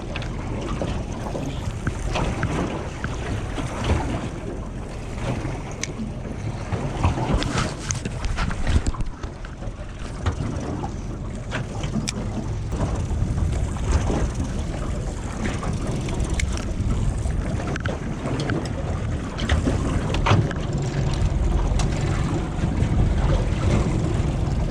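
Steady gusting wind buffets the microphone over water, a continuous rough roar that swells and eases throughout.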